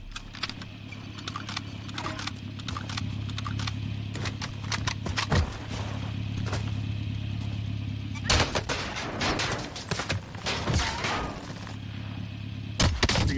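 Repeated gunfire in Call of Duty Warzone, with a Kar 98K rifle in use: sharp shots scattered over a steady game background with footsteps and rustle, louder bursts near the end.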